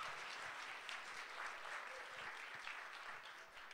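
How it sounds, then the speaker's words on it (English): Audience at a synagogue Hebrew school children's musical breaks into sustained applause, a dense wash of many hands clapping in a hall that stays steady and begins to thin near the end. "We'll have a nice round of applause for Miriam Poppins."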